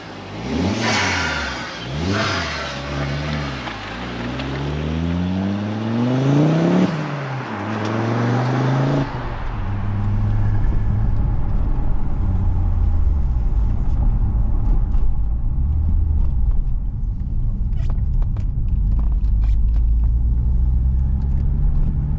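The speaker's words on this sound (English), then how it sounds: "Let's go for a drive." A Ford Mondeo 2.5T pulls away with rising engine revs through several gear changes, then settles into a steady, loud low rumble of cruising with road noise.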